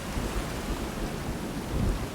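Thunderstorm in the video game Sons Of The Forest: steady heavy rain with a low, continuous rumble of thunder that swells slightly near the end, no voices.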